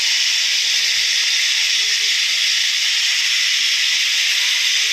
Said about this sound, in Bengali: এবার ম্যারিনেট করা মাছগুলোকে আস্তে আস্তে করে ভাজবো